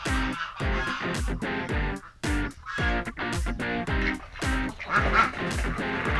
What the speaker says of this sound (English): Ducks run away from the bully geese, so they don't get enough to eat.